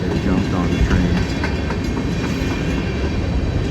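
A freight train rushes past at speed, close and loud, with a continuous roar of wheels and rattling cars and some faint rhythmic clatter throughout.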